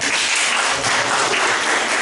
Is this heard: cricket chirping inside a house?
no